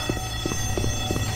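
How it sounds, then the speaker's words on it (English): A steady electronic alarm blares in the Left 4 Dead 2 Dead Center campaign, its repeating tones pulsing over a dense, continuous game soundscape with no talk. "Turn off that alarm!"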